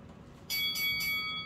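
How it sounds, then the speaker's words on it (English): A small hand bell is rung in a few quick, bright strikes to celebrate pulling a secret rare card from a Pokémon Evolving Skies booster pack, the ringing loud and close with no talk over it. "Ring the bell for us, Ash."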